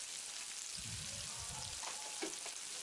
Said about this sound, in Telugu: హీట్ అయిన తర్వాత తరిగిన ఉల్లిపాయ ముక్కలను వేసి వేయించాలి.